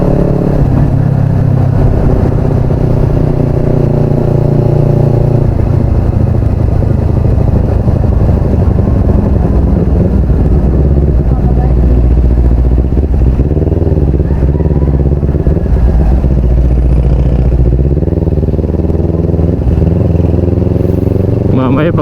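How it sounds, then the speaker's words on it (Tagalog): Heavy street traffic with cars and motorcycles passing, a loud, continuous drone of engines with occasional revving motorbikes close by, while people talk over the noise. "grabing traffic na nito dito"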